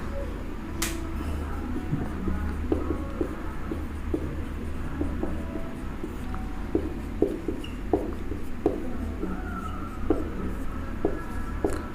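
A teacher writing on a board in a classroom, with steady chalk-like taps and strokes repeating irregularly over a low room hum, close and moderately loud.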